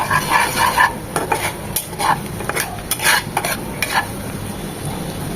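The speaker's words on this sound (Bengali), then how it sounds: "এক মিনিট রসুন কুচিটা ভেজে নেব" Close-up sizzling of chopped garlic frying in butter in a pan, with intermittent scraping and stirring clatter from a utensil over a steady frying hiss.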